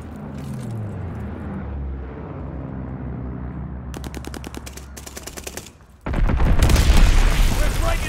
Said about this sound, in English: Friendly bombing run on the way.